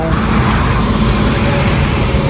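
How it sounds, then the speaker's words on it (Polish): Heavy road traffic rushes past at steady speed, a dense continuous roar of engines and tire noise with no voices. "Ciężarówki mkną"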